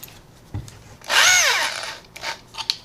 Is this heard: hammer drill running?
yes